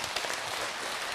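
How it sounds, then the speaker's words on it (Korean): Brief burst of dense applause from a seated audience at a Buddhist question-and-answer talk, steady and fairly loud throughout. "자, 우리 보살님 박수로 맞으세요."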